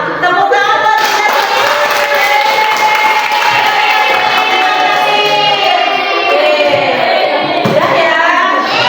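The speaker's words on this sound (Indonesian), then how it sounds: "Tepuk tangan buat kita" Audience at a school dissemination event in Wanaraja clapping in steady dense applause, with cheering and voices mixed in, continuous and loud for nearly nine seconds.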